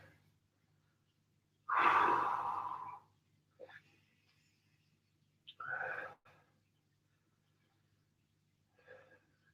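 Deep, controlled breathing during a home recovery stretching session: one long, loud exhale close to the mic, followed by two shorter breaths and a faint final one, with quiet pauses between them.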